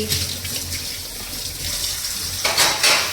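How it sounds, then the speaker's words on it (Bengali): Tap water runs steadily into a sink while vegetables are rinsed in a home kitchen, with a brief louder gush near the end; no one speaks. "তরকারিটা এই দেখো ধোয়া মাজাও নিচ্ছি"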